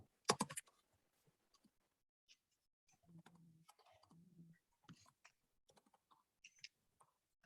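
Faint, scattered clicks of a computer keyboard, close by and quiet, with irregular keystrokes broken by short pauses and a couple of low hums from brief background murmurs.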